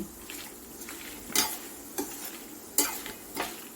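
Urad dal and coriander seeds fry in a pan with a soft, continuous sizzle, broken by a few sharp stirring scrapes spaced about a second apart, close and moderately quiet, without voices.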